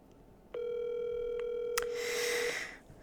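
A phone call gives a steady dial tone lasting about two seconds, joined near the end by a brief burst of noise that fades out.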